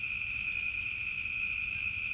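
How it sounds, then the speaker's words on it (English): Crickets chirp in a steady, high, unbroken drone that carries on at an even level throughout, with a faint low rumble underneath and no voices. "as soon as I sat down, the crickets went ballistic."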